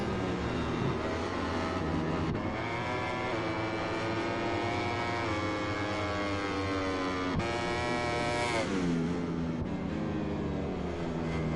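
A Ducati racing motorcycle crosses the line during a session at Valencia, its engine a loud, continuous high-revving drone with rising and falling pitch, rearing up again sharply near the end.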